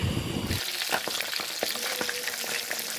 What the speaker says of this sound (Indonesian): saya goreng pakai bawang putih dan garam, ikan Uceng, ikan wader